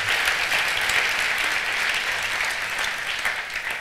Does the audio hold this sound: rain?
no